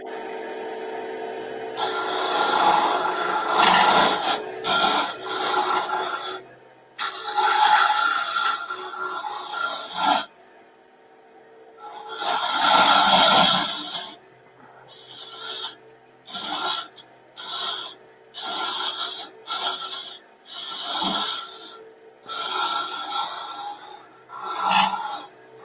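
Wood being sanded with sandpaper on a spinning lathe, a raspy rubbing sound in repeated passes of varying length with short gaps between them, fairly close and steady, without talk.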